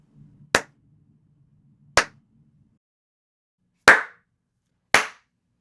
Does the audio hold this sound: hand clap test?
yes